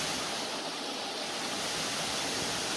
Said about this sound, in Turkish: Bakın şelaleyi görüyorsunuz. Ne kadar yüksekten aşağıya dökülüyor.